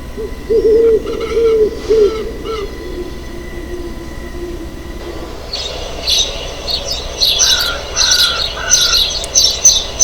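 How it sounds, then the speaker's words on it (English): An owl gives a few low hoots early on, followed by a denser stretch of higher bird calls, all without any talking. "The sound made by owl is hoot."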